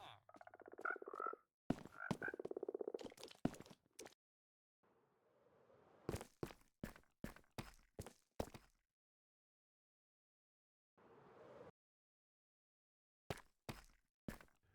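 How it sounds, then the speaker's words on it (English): Green frogs croak in a breeding area in Minecraft Bedrock, giving short clustered croaks separated by silent gaps, mixed with sharp clicking game sounds, fairly faint overall. "we have our green frogs breeding in this area."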